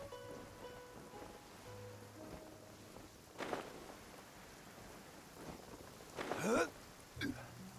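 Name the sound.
rain falling in video game Genshin Impact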